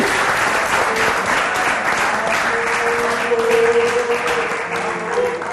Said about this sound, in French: On va applaudir très fort pour Papa Alagué.